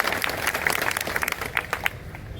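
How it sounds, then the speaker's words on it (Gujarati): An audience at a farmers' gathering in Junagadh claps in a dense, steady burst of applause, close and fairly loud, with crowd murmur underneath. "તાળીઓથી વધાવો"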